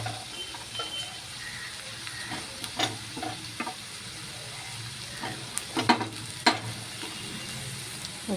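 Bitter gourd pieces fry in a pan with a soft, steady sizzle. Sharper clinks and scrapes break in now and then, especially toward the end.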